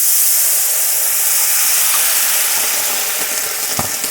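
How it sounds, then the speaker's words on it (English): White wine poured into a hot pork chop pan for a balsamic pan sauce hisses and sizzles steadily, a loud broadband steam hiss with small pops near the end, no talking. "first I deglaze it with a shot of white wine"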